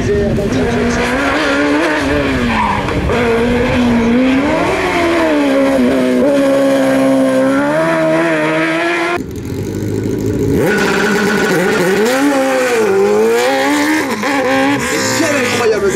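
A rally car tears up a hill climb course at a slalom event, its engine revving hard and loud throughout with shifting pitch and tires skidding, broken by a brief dip before the roar resumes, with a voice talking over it.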